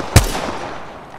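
A single sharp, loud gunshot in Apex Legends, followed by a ringing tail that slowly fades away, with no speech.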